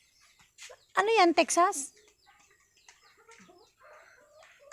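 A native chicken clucks and calls close by in a rural mountain setting in La Union, a short burst of loud fowl vocalization followed by quieter clucks, with people talking nearby.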